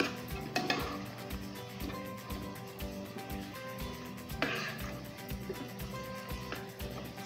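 Steak pasta stirred in a pot gives faint, close clinks and scrapes of a utensil against metal in a soft, irregular rhythm over light kitchen background noise, with no talk.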